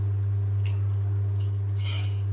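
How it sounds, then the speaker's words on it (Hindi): Cooked pumpkin pieces being mashed for a pumpkin halwa, two brief soft squishing bursts spaced apart over a constant low electrical hum, with no talking. "ये जो थोड़े से छोटे छोटे पीस रह गए ना इनको भी हमने अच्छी तरह से मैश कर लेना है"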